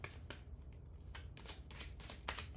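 Tarot cards are shuffled in quick riffling bursts, soft and close, repeating several times in an otherwise quiet room.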